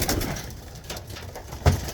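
Tippler pigeons coo softly inside a loft, a low murmuring bird sound spread through the moment, with a sudden louder thump or flutter near the end.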